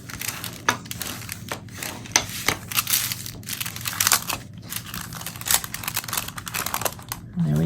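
Folded cardstock being creased with a bone folder while making a receipt holder: continuous close scraping and crinkling strokes, dense and steady, with sharper rubbing bursts throughout.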